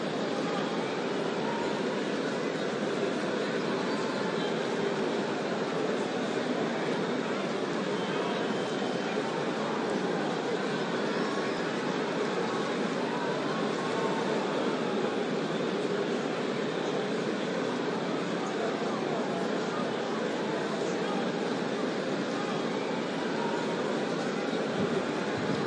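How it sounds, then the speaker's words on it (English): Arena crowd in the WWE 2K19 wrestling game before a SmackDown match between Chyna and Stone Cold Steve Austin, a steady dense roar of many voices held at an even level throughout, with no commentary audible. "it sounds like this arena is more than ready to kick this one off."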